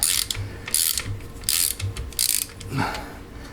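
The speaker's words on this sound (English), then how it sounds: "It's the most dramatic drain bolt removal I think I've ever had" A ratchet works at a stuck oil drain bolt on a Suzuki DR650 engine, sounding as several short, sharp bursts of rapid clicking with brief pauses between strokes, close and fairly loud.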